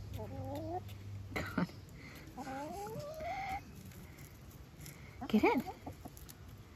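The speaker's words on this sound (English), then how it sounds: "fresh pumpkin for your chickens" Backyard hens cluck and make short rising calls while pecking at fresh pumpkin, several birds close by with bursts of chatter, and a person speaks briefly among them.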